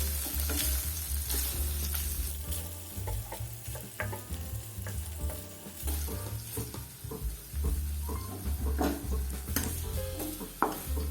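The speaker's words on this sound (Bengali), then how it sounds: "পনিরগুলো আমি এখানে খুব বেশি ভাজবো না, জাস্ট 1 মিনিট টস করে নিচ্ছি।" Paneer cubes being tossed and lightly fried in a pan, a continuous close sizzle with scraping and stirring knocks throughout.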